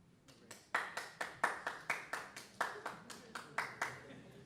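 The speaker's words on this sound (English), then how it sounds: "I can always count on Esther Ann to give me an applause." Applause at a town board meeting from only a few people, a sparse, slightly uneven run of about fifteen distinct claps, fairly close and clear in a quiet room.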